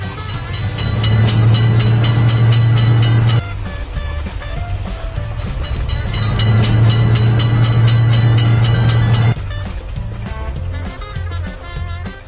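A cartoon train in a children's level-crossing game rumbles past twice with a steady low drone, each pass cutting off abruptly, over bright looping game music.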